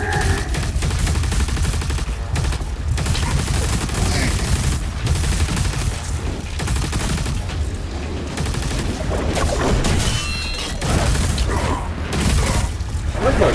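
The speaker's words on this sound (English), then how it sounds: "And we're going to use the plasma gun." A plasma gun in DOOM: The Dark Ages fires in rapid continuous bursts, dense and loud, with mechanical clanks and rattling among the shots.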